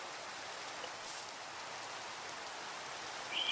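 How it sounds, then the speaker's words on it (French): Rain in the Minecraft mod Pixelmon falls as a steady, even hiss of droplets with no voices, holding at a constant moderate level from start to finish. "Je disais pour la pluie, je vais la désactiver."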